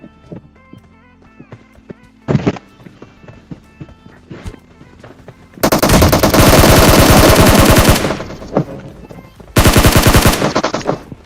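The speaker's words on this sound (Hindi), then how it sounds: "बंदा हमारे ऊपर गोली चलाता है" Bursts of automatic gunfire in a shooting video game, two long rapid volleys of loud, dense shots after quieter game sounds and a brief metallic hit, with no talk.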